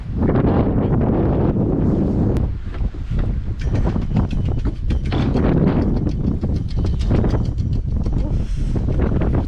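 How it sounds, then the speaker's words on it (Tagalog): Strong wind buffets the microphone with a constant loud roar and rumble, gusting throughout with no clear voices. "Sobrang hangin."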